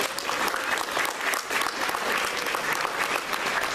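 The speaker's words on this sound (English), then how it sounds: "let's have a round of applause." Steady applause from an awards ceremony audience, dense and continuous with no pauses, clapping filling the room at a fairly even level throughout.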